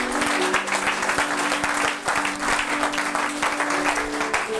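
A church congregation applauds together in sustained, dense clapping, steady and fairly loud throughout, with a low musical hum beneath it.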